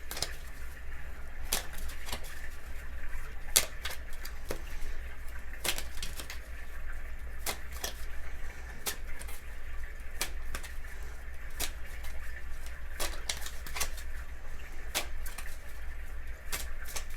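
Tarot or oracle cards being shuffled: a steady run of crisp, evenly spaced snapping riffles over a constant low background hum, with no talking.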